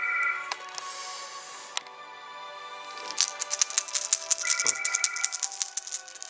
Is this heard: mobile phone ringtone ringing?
yes